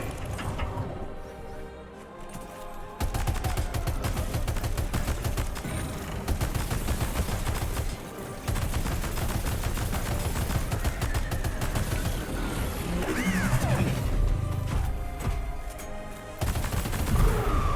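Dense gunfire from Death Stranding 2 rattles almost nonstop in rapid bursts and volleys, loud and close, with short pauses between exchanges.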